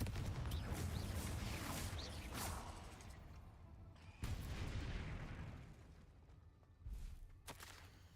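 Fire explosion spell Confringo cast in the video game Hogwarts Legacy, heavy booming blasts and whooshing bursts repeating over a dense, loud rumbling game soundscape.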